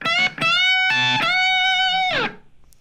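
An electric guitar plays a short lick, with a sustained bent note that bends and then gets cut off abruptly, followed by silence.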